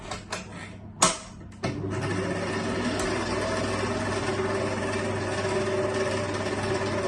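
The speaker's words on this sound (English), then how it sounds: "So we're going to stop the mixer." An electric mixer runs steadily through chocolate chip whoopie pie batter, a constant motor whir after a few clunks and a brief start, fairly close and with no talk over it.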